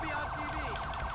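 A fire truck siren from the police game LSPDFR wails in a fast, rising and falling pattern. It sounds loud and continuous over a steady rumble of engine and background noise.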